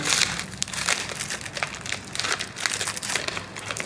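Crinkly gift wrapping paper rustles and crackles in irregular bursts as a heavy present is unwrapped, close and fairly quiet.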